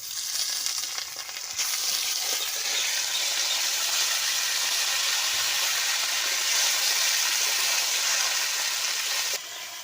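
Gourd leaves (lau shak) drop into hot oil in a wok and set off a loud, steady, hissing sizzle that holds for about eight seconds before easing off. No one talks.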